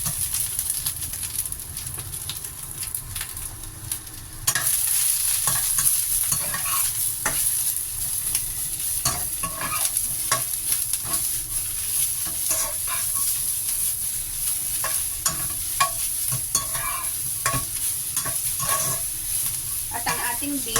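Leek stir-fried in a hot pan, with a steady sizzle throughout and frequent scraping and tossing clicks from stirring. The sizzle grows louder and brighter after the first few seconds.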